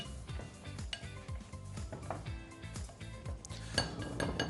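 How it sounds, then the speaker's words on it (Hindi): A utensil clinks and scrapes around a bowl as dry yeast is stirred into flour, making a rapid series of close, rhythmic metallic taps and clatters with no talking. "इससे हम पहले ड्राई ही स्टर करेंगे"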